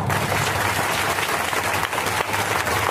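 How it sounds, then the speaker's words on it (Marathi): A large crowd at a political rally claps in dense, loud, sustained applause, a continuous wash of hand claps without pause. "सुजात दादा आंबेडकर साहेबांच्या नावाने जबरदस्त टाळ्या वाजवा."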